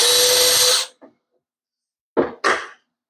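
A power drill bores a pilot hole into a solid fiberglass hatch gutter, running loudly alone for just under a second before stopping, followed after a pause by two short bursts of a second sound.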